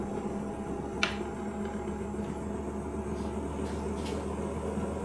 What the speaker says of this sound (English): Getting a little bit of a rattle out of the front.